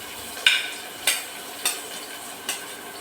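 Onion and fennel seeds fry in a pan with a soft, steady sizzle, broken by four sharp, evenly spaced stirring knocks against the pan. No one talks.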